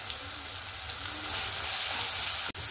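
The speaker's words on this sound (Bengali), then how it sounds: "দিয়ে ভালো করে আমি এটা কষিয়ে নেব" Spice masala of cumin powder, coriander powder, chili and salt is sautéed in a pan for a fish roe curry, giving a close, steady, dense sizzle that briefly cuts out near the end.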